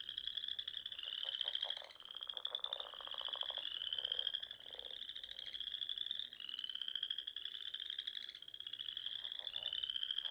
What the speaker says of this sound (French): Les appels des grenouilles sont uniques suivant les espèces.